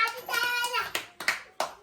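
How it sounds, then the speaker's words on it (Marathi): A few sharp hand claps at home in a family setting ring out near and loud, about four separate claps after a voice chants briefly at the start. "टाळ्या वाजा"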